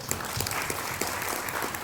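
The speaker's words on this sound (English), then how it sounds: "Once we clap, we make a lot of noise" A conference audience claps in a dense, steady wash of applause, loud and continuous with no voices over it.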